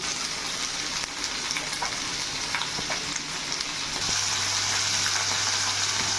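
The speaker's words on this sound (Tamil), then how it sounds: "வெட்டி வச்ச தக்காளியை போட்டுக்கலாம்." Chopped tomatoes fry in a pan for country chicken curry, giving a steady, close, loud hiss and sizzle throughout, with a low hum joining near the end.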